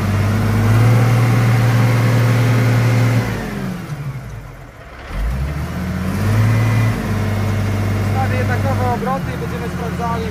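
A Case Magnum 7210 Pro tractor engine runs loud and steady near the listener, dipping in revs midway before climbing again to a high sustained drone.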